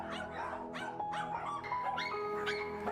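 Several dogs from a puppy mill bark and yip in repeated overlapping bursts, close and loud, with some whimpering between barks and no talking.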